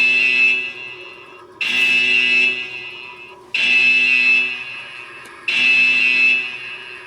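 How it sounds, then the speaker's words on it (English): A security alarm in a workshop where a Husqvarna cam vault is kept blares as a loud, steady electronic tone in four long bursts separated by brief gaps, each fading slightly before the next begins. "I've got the alarm going off on the Husqvarna cam vault"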